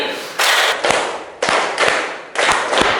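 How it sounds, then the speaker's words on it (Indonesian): Indonesian classroom students giving short, sharp group claps in small clusters, several bursts spaced about a second apart, loud and close with no talk over them. "Kita mulai dari tepuk 2 kali"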